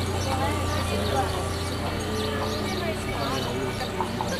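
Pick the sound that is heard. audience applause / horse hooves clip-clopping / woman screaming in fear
horse hooves clip-clopping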